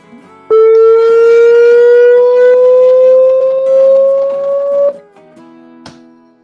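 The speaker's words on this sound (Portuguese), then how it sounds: "Existem diversas opções aqui de tom, 4 opções. Vamos começar pelo seno." A steady sine tone from a programmable tone generator, slowly gliding upward in pitch, loud and alone for about four and a half seconds before cutting off, followed by brief faint clicks.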